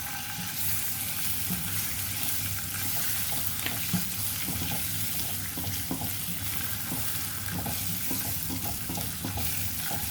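Butter dropped into a pan of light-brown caramelizing sugar for a tender coconut pudding, giving a steady, close sizzle and frying crackle throughout with occasional stirring scrapes.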